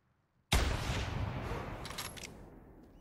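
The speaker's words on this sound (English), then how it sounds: "That shot looked way too high, but It's not that important." A single rifle shot rings out while hunting ibex in the mountains: a sudden loud crack that rolls into a long, fading echo across open terrain, with no talking.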